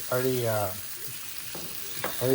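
Sausage frying in bacon fat in a pan, a steady close sizzle and hiss running throughout, with a voice briefly speaking over it near the start and end.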